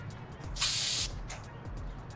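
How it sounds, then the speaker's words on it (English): An Atmosphere Aerosol haze spray can fires one short, loud hissing burst lasting about half a second, followed by a fainter brief puff, close to the microphone, with no voices. "This, it's atmosphere aerosol. It gives you a nice smoke without the smoke machine."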